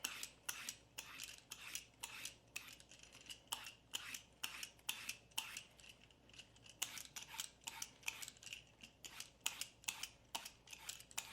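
Quick, repeated scraping strokes of a peeler or knife stripping skin from a vegetable for stew, a rapid crisp rhythm of short rasps close up with no talking.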